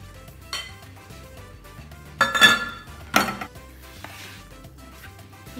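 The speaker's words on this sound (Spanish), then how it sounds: "Estamos incorporando la harina con el huevo y el aceite." Flour, egg and oil being mixed for carrot cake batter with a spatula or small wooden paddle, giving soft scraping and a few sharp clinks against the bowl, with no talking.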